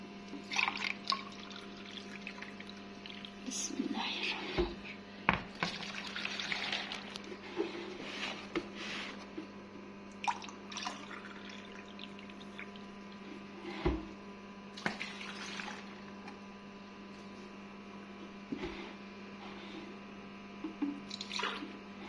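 Brine is poured into pickle jars in a kitchen, with soft splashing, trickling and occasional drips and clinks over a steady low electrical hum, fairly quiet and intermittent.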